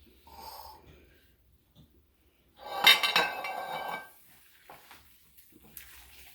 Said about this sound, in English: So then I'm going to put it in my pan.